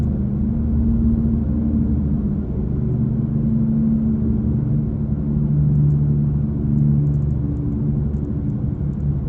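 A Subaru Impreza passes by as a steady, fairly loud low engine rumble that holds evenly for the whole stretch, with no talking.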